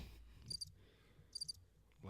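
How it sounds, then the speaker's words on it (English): A cricket-chirp sound effect triggered by mistake during a hip-hop talk show, two short bright chirp bursts over a quiet room background with no speech. "Why are there crickets? I don't know. I pressed the wrong button."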